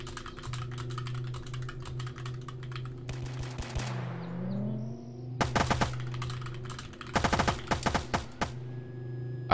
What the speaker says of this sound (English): Honestly, it's just getting to the point where I have to ignore the shots.